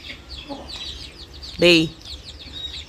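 A hen or rooster lets out one loud, close cluck-like call partway through, standing out against quieter farmyard background noise and faint distant bird chirps.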